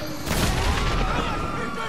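An in-game explosion in GTA 5 on PS3 sounds as a broad burst of noise with crackling, gunfire-like texture that holds steady for about two seconds.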